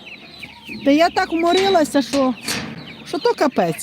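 Someone talks in Ukrainian close by while chickens cluck around her, their calls mixed in under and between her words.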